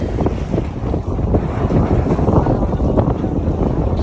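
Waves on a river churn in a loud, steady low rumble up close, blended with strong wind gusts hitting the microphone.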